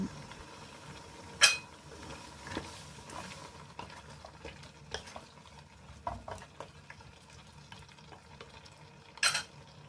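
Vegetables such as round eggplant, pea eggplant and boiled bamboo shoots go into a boiling Thai jungle curry with pla krai fish. A soft bubbling stir carries throughout, broken by a couple of sharp clinks from the pot.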